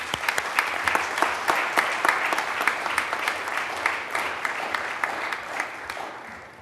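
Applause from a civic audience at a Cambridge, Massachusetts State of the City address, honoring city employees: dense, sustained clapping from a large crowd, even and fairly loud, tapering slightly at the end.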